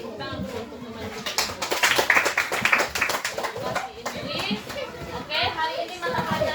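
A classroom of children claps for a classmate, a burst of loud, quick, uneven hand claps with children's voices chattering over and after it.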